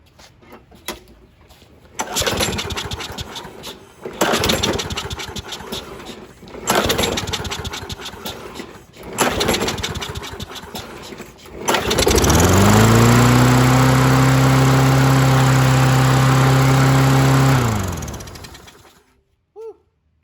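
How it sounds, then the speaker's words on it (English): A Craftsman lawn mower engine with a new carburetor, close by, makes several failed pull-start tries, then catches and revs loudly and steadily, too high, for a few seconds before cutting off. "And it started and revving way too high."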